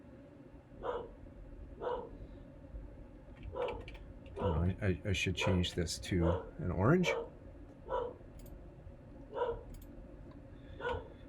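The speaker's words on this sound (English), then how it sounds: "I don't know if you can hear my dog barking in the background." A pet dog barks repeatedly in another room behind a person talking and typing at a computer keyboard, the sharp barks spaced out and then clustered into a rapid volley midway.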